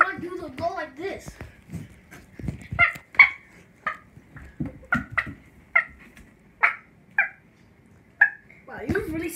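A person imitates a chicken with a run of short, clucking vocal bursts in an uneven rhythm, close and fairly loud, starting with a few squeaky voiced sounds.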